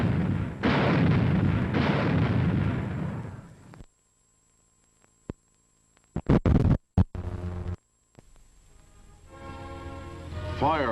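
Automatic anti-aircraft gun firing 45 shells a minute: a long, heavy roaring barrage, then a silent gap, a few sharp, loud reports, and rumbling noise with a faint voice near the end.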